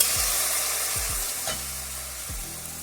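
Fish curry being stirred in a pan with a crushed paste of green chilli, ginger and garlic: steady frying sizzle throughout, broken by several low scraping thumps of the spoon against the pan.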